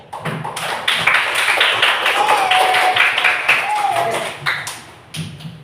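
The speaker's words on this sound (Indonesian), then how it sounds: "kita tepuk tangan dulu" Classroom applause, a steady patter of many hands clapping for several seconds, with some scattered voices mixed in.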